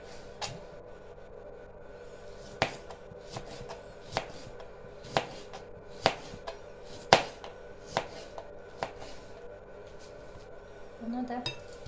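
A knife chops tomato slices diagonally on a cutting board, sharp irregular knocks spaced about a second apart, close and moderately loud, with faint kitchen background between strikes.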